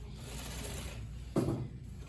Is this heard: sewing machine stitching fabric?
yes